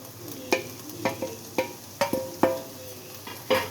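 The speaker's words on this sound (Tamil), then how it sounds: "நல்லா போட்டு வதக்கி விட்டுக்கோங்க" Drumstick leaves sautéed with freshly grated coconut in a pan, a spatula scraping and tossing in a steady rhythm of about seven sharp strokes over a faint, low sizzle, close and moderately loud, with no voices.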